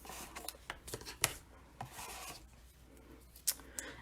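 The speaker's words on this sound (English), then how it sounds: "I'm just going to flip that over and trim this off" Paper strip trimmed during a stamping and punch-art craft project, close soft rasping and rubbing with a few crisp ticks and scrapes over about four seconds, no speech.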